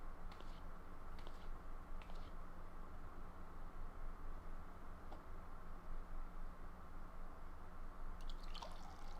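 Dripping water in a Final Fantasy XIV cutscene, a few sparse drips over a steady hissing, rumbling background, moderately quiet.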